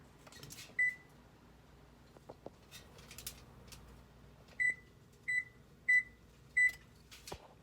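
An oven beeps as it is set to preheat, with one short tone followed later by four evenly spaced beeps, close and clear over faint kitchen background noise.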